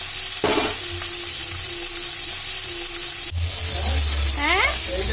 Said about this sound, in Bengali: এখানে আমি এবারে কড়াতে মাছ দিয়ে দিচ্ছি। মাছের ঝাল হবে